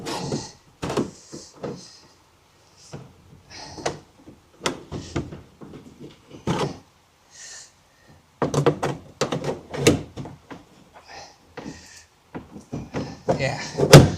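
A stiff plastic factory bed liner is pried out of a 2021 Nissan Navara NP300 pickup bed, giving irregular creaks, knocks and thunks in bursts close by, with gaps between efforts.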